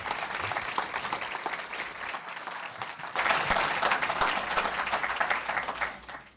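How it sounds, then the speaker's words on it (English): An audience at a launch event applauds the panelists with sustained clapping from a large crowd, swelling midway before tapering off at the end. "please give me a round of applause for all of the panelists"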